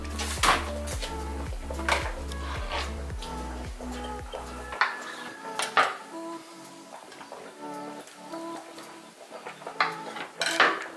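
Vegan lasagna filling with tofu is scooped and mixed in a bowl, making clinks and scrapes of utensil on dish. The knocks come in an irregular series, with a low hum early on.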